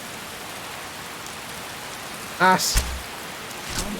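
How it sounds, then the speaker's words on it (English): Even hiss of steady rainfall in Skyrim fills the whole stretch, with a short spoken word cutting through partway along. "which is different to the rainfall sound you can hear now."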